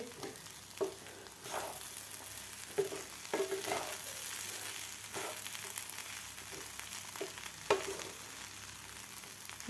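Sweet corn poha stirred and mixed in a hot pan, giving soft repeated scraping and light sizzling strokes at an uneven rhythm, close and moderately quiet, with no talking.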